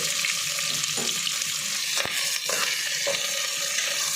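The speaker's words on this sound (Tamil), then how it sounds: "வெங்காயத்தை நல்லா வதக்கிக்கலாம்." Onions sauté in a pan for beef gravy, giving a steady bright sizzle with occasional stirring scrapes, close and alone.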